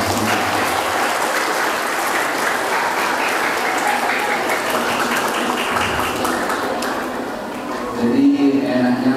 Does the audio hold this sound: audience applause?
yes